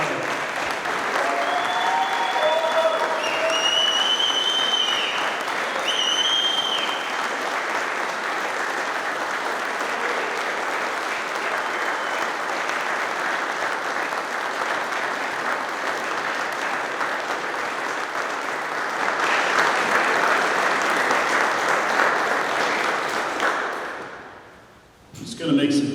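Sustained applause from an audience at a maritime institute graduation ceremony, steady and dense for over twenty seconds with some voices and whistles mixed in near the start, swelling again briefly before it fades out.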